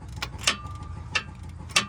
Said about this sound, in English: I'm gonna break loose the O2 sensor.